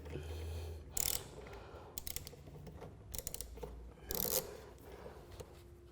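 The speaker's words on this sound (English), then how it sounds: "will need for this is a 10mm socket on a ratchet, and it's a simple case of loosening the bolt on the back bulkhead for the earth connection" A 10mm socket on a ratchet loosens a bolt on the rear bulkhead of a VW Golf R, making short, quiet bursts of rapid clicking separated by pauses.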